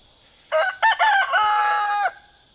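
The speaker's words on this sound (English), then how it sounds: "do another chicken video so you can listen to Mr. Roo and look at the red hens." A rooster crows loudly and close by, a clear multi-part call that rises, breaks, then holds a long final note before cutting off.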